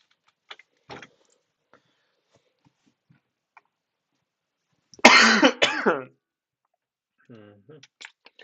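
A single close, loud cough of about a second from a person at a computer during a live session, set among mostly silent stretches with a few faint clicks and a short low throat sound afterward.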